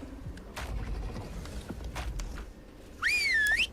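In Ark Survival Ascended, a sharp rising-and-falling whistle command to tamed creatures near the end, heard over a steady background of game ambience and soft thuds.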